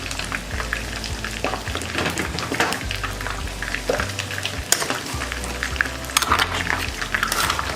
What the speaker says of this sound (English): And we're going to add our scallions to this. And give it a good stir.